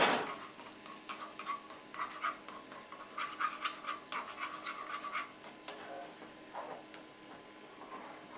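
Two eggs cook in a large frying pan with a knob of butter as their yolks are broken, making a faint, soft crackling sizzle with light stirring scrapes and no talking.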